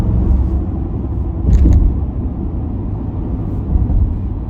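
Inside a 2022 Ford F-150 Tremor pickup as it drives up a highway ramp, a steady low engine and road rumble fills the cabin, swelling briefly, with no talking.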